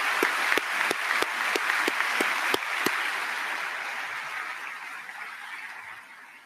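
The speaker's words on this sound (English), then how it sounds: "How about a round of applause for our guests?" Graduation audience applauding guests in a large hall, dense clapping with sharp, loud claps early on, gradually thinning and fading out over several seconds.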